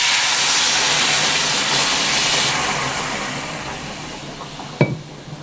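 Hot water poured into a pan of frying bitter gourd and vegetables for Bengali shukto, raising a loud, steady steam hiss that slowly fades, with a sharp utensil clink near the end.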